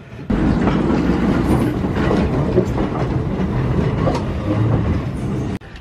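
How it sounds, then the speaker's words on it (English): Trains at the Southern California Railway Museum, formerly the Orange Empire Railway, about to depart, give a steady, fairly loud rolling rumble with faint rail clatter that holds throughout with no voices. "Got a couple trains down there about to depart."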